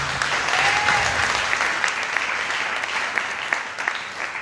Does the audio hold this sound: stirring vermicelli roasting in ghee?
no